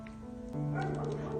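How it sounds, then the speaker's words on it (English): A small dog gives a short excited yip or bark, close by, with a faint whine mixed in. "Rusty, he's barking."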